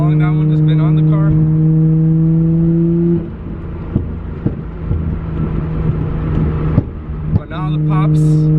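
A Nissan GT-R R32 fitted with a new Tomei exhaust holds a loud, steady engine drone, drops to a rougher, fluctuating rumble midway, then returns to the steady tone, with wind buffeting the microphone throughout.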